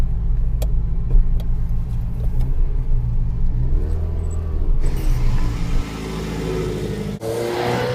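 Ferrari 308 GTB QV with its four-valve engine running, a steady loud low rumble that swells as it revs, with a brief dip and a sharper change near the end.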